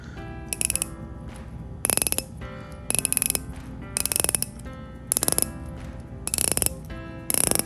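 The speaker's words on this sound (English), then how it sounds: "Sonically sort of feels like quite a high pitch click to it" Vintage Alsta Nautoscaph IV diver's watch bezel turned by hand, giving bursts of sharp, high-pitched ratcheting clicks in several rapid runs with short pauses between, close and crisp in a quiet room.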